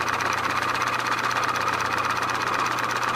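A die filer reciprocates a file against a brass clock plate for a grasshopper clock, giving a steady, continuous mechanical buzz and rasp that runs loud and unbroken throughout with no pauses.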